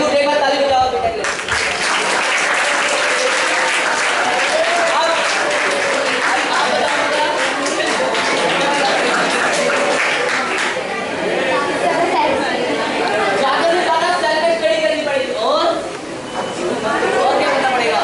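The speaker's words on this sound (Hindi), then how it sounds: "एक बार ताली बजाओ बेटा के लिए" An audience at a motivation class for 9th to 12th grade school students claps for a student, a loud sustained round of applause with crowd chatter and voices mixed in.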